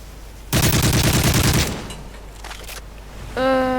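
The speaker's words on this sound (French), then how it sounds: "on nous tire dessus en silencieux, là." Suppressed gunfire in Modern Warfare 3 on a cruise-ship map comes as a rapid burst of muffled automatic shots lasting about a second. A few quieter pops follow, then a tonal game sound.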